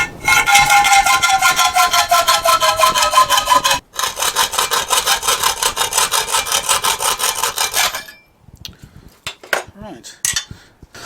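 Steady rhythmic hand sawing of a shape for a Moto Guzzi motorcycle part, fast back-and-forth strokes close by, a brief pause near the middle, then a few scraping taps as it stops.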